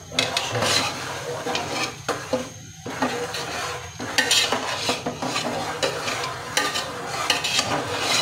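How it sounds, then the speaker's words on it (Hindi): Flax seed ladoo mixture with grated coconut and sesame seeds stirred in a pan off the heat: repeated scraping and clinking of a spoon against metal, a soft residual sizzle beneath, with a brief pause midway. "उसको अच्छी तरह बस अब मिक्स करना है"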